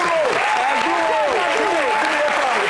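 Audience applause for a DJ at a showbiz event, a steady loud round of clapping with voices cheering and talking on top of it throughout.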